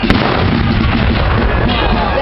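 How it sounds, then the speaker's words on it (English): Cannon fire at a Civil War reenactment of Gettysburg sounds as a loud, sustained rumbling boom that fills the whole clip, with a sharp burst near the start and no voices. "Oh, cannon."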